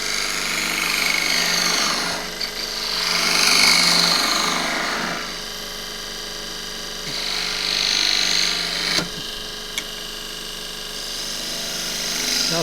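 Wood lathe turning a tall spruce goblet with a 3/8 spindle gouge, giving a steady broadband cutting hiss with swelling passes and brief tool catches, close and loud, with no talking.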